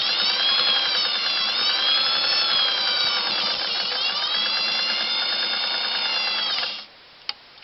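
Singer 404 sewing machine stitching through doubled denim: a loud, steady mechanical whir with rapid needle rhythm, shifting slightly in speed for nearly seven seconds before stopping, followed by a couple of faint clicks.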